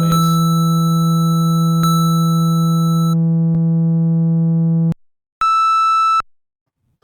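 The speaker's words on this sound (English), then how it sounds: "Now it's a sine" A sine wave oscillator driven through distortion holds a loud, steady harmonic-rich buzz for about five seconds, cuts out, then returns as a shorter, brighter distorted tone before silence.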